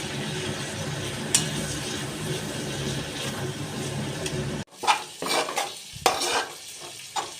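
Drained boiled chickpeas are stirred into fried potatoes in a pan, a steady sizzle that breaks off abruptly, then gives way to scraping stirs and clinks of a utensil against the pan.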